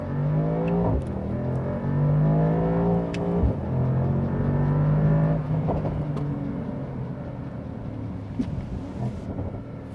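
A Mercedes-AMG SL 55 Roadster engine revs hard and loud for the whole stretch, pitch climbing and dropping through shifts, with sharp pops and crackles on the downshifts.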